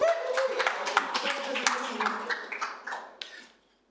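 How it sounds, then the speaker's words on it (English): A panel audience claps in warm applause that fades out over a few seconds, with talk mixed in. "Give them big applause to relax."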